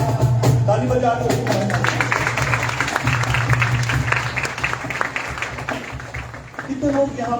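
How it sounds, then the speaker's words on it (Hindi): A church congregation at a worship conference claps hands together in a steady rhythmic patter, loud and close, mixed with voices and a sustained low musical drone. "ताली बजा दो।"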